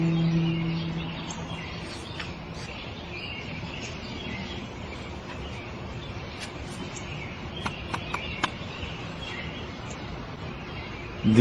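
Faint, sporadic high chirps from a sparrow over steady outdoor background noise, a few quick calls clustered near the end.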